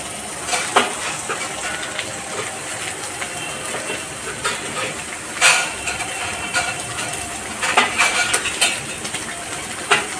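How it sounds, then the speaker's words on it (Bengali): Chhana (cottage cheese) frying in oil in a pan, turned from side to side: a steady broadband sizzle and hiss throughout, with occasional sharper crackles and spatters, close and fairly loud. "ছানাটা এদিক ওদিক করে একটু ঘুরিয়ে ঘুরিয়ে ভেজে দেবেন।"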